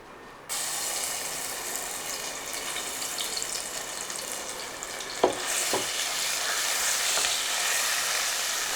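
Spices fry in a pan for Kerala-style beef curry, giving a continuous close sizzle with stirring and a couple of sharp scrapes partway through; no one speaks.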